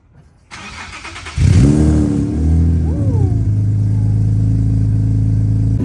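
Car engine with a used aftermarket VQ exhaust cranks and fires up about a second in, settling into a loud, steady rumbling idle with a brief rev, close to the microphone.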